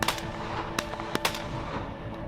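Shots from a Browning Maxus II semi-automatic shotgun ring out during a hunt in Corsica: several sharp, distant-sounding cracks spread unevenly across a couple of seconds over quiet outdoor ambience.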